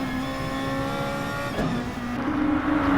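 Aggressive Group 2 race car engines in a racing video game at the St Croix circuit, a loud, close, buzzing howl that shifts pitch and climbs as the car accelerates, with a faint tyre squeal near the end, no talk.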